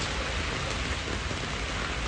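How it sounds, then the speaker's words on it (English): Heavy summer rain pours down in the streets of Cologne, Germany: a dense, steady hiss and splatter of downpour filling the whole stretch, loud and unbroken with no voices. "Cologne in raining."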